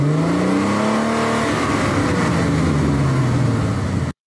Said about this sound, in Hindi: अब ये मेरे पास एक साउंड इफेक्ट है जिसमें थोड़ा सा एक्सीलरेटर की आवाज़ है